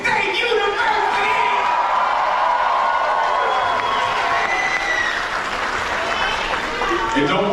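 College students at a university speaking event cheer and applaud, a dense and sustained wash of clapping and crowd noise that continues without a break.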